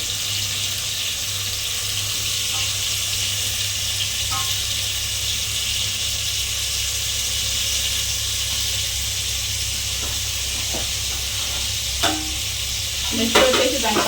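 Salt is being stirred into tomato rice in a pan over a constant soft sizzle and low hum, with faint scraping and a few sharper clinks and rustles near the end.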